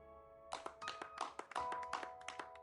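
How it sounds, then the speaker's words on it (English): Scattered, light clapping from a few hands in the video game Granblue Fantasy, uneven taps starting after a brief pause and continuing irregularly at moderate distance. "they hear the sounds of a scattered applause begin."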